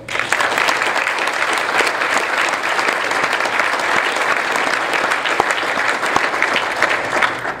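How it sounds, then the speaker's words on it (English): A community band concert audience gives a round of applause for a supporter of the band, a thick, even wash of clapping that holds steady and loud throughout. "I'd like for you to give him a round of applause"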